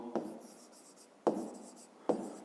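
Pen or pencil writing a number by hand on paper during a 5th-grade maths exercise, three short scratchy strokes each starting with a sharp tap and trailing into soft rubbing, close and quiet with no talking.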